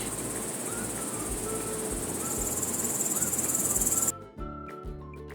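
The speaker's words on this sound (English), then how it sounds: "Nimble grasshopper." Continuous high-pitched insect chirring from a grasshopper, dense and steady for several seconds against a noisy outdoor background before it cuts off.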